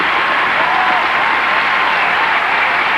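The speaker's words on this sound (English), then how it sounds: "But the crowd always enjoying the dynamic Robin Cousins." A large crowd in Bislett Stadium, Oslo, applauds a figure skating performance at an exhibition event, a loud, steady roar of clapping throughout with faint commentary underneath.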